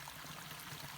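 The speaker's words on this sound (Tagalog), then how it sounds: "Ang tubig na lumalabas dito." Water gushing steadily out of a pipe outlet, a continuous dense rushing and splashing with no breaks, heard up close.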